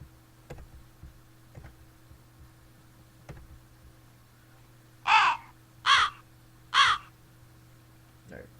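Three loud crow caws from a sound-effect sample in a dark trap beat made in FL Studio 12 ring out in a quick, evenly spaced sequence after soft ticking clicks over a low steady hum.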